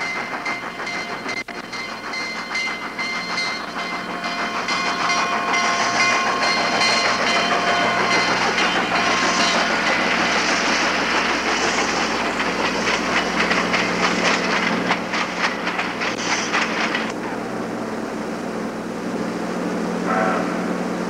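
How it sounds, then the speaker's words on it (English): A train rumbles closer and louder with a steady hiss and rhythmic clatter of wheels, building into a sustained roar before easing slightly near the end. "That train is fast approaching."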